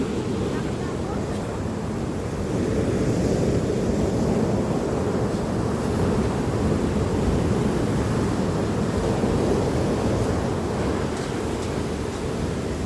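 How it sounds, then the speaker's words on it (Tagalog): Steady roar of surf washing in close by at Liwliwa Beach, broad and continuous, with wind buffeting the microphone and no clear breaks between waves. "Kailangan tiyempohan natin yung alon."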